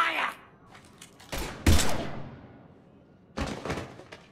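Gunfire in the sci-fi game Mass Effect 3, a few loud bursts of shots with echoing tails separated by quieter gaps.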